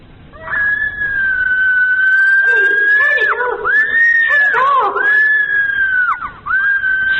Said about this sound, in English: here's the tape, just where Thomasina screams